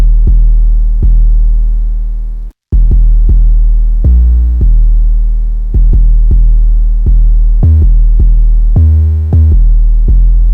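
Deep, booming 808 bass notes with a slight distorted edge, repeating in a steady pattern with a brief dropout partway through.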